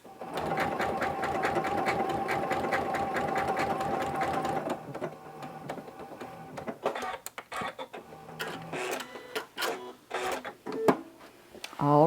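A Janome sewing machine stitching a decorative stitch combination runs in a steady, rapid mechanical rhythm for about five seconds, then stops, followed by clicks, handling noises and a person talking.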